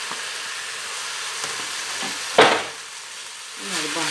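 Tomato sauce and parsley being stirred into an eggplant filling in a hot pan, a low steady sizzle with one sharp brief scrape or clatter near the middle, no talking.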